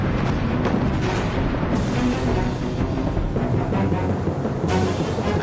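Naval cannon fire at sea during the War of the Pacific as a Peruvian ship shells and sinks a vessel: a continuous, dense roar of rumbling booms and blasts with occasional sharper bursts, loud and sustained throughout.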